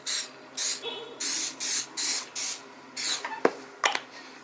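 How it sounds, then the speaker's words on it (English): Aerosol spray on a metal gate wheel-cover part held on a magnet before welding, several short hissing bursts in a steady rhythm, close by, followed by a couple of sharp clicks. "I'm going to spray it down."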